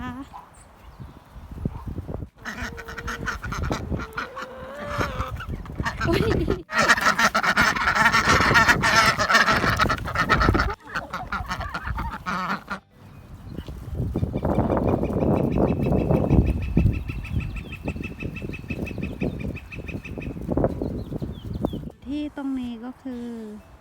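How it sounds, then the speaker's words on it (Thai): Ducks and chickens being fed corn on a farm give loud honking, quacking and clucking calls in bursts, with scattering and shuffling sounds, while someone talks over much of it. "นี่ให้อาหารเป็ดอาหารไก่นะคะ"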